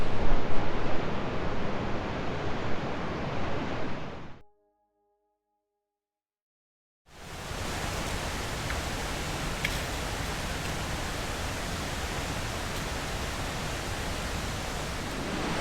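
Blackwater Falls waterfall and the churning Blackwater River roar as a dense, steady wash of rushing water, loud and close, cutting out to near silence for a few seconds before resuming just as strongly.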